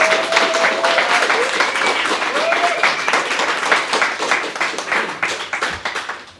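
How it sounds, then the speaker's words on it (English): An audience at a coding bootcamp graduation showcase gives a sustained round of close, dense clapping that slowly thins toward the end, with a few voices underneath. "I hope you heard that round of applause."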